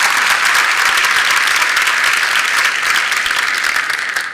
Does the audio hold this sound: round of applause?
yes